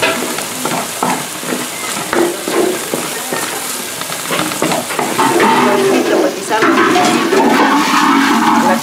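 Minced meat sizzles and crackles in a hot pan for rocoto relleno at a picanteria in Arequipa. The frying is loud and close, stirring scrapes come in bursts, and the sizzle grows stronger in the second half.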